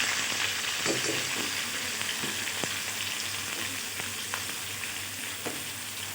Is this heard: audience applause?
no